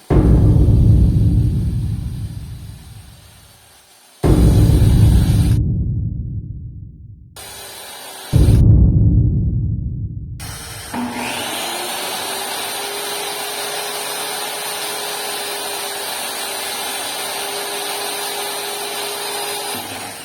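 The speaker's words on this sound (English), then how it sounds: "I saw the plywood pieces lengthwise" Plywood pieces are ripped lengthwise on a power saw in three loud, roaring cuts, each fading as the blade spins down. A steady machine hum follows near by, with no talking.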